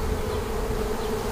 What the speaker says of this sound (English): Beautiful, lots and lots of bees.